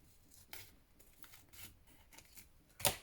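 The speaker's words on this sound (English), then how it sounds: "This one I think I'm going to cut" Scissors cutting paper for a junk journal, a series of soft, close snips at a slow, uneven pace, ending in one louder sharp cut, with no talking.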